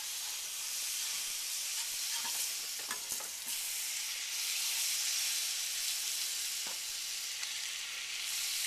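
Butter sizzles and crackles steadily as it browns in a pan, a constant bright hiss with occasional soft pops and stirring, heard up close without any talking.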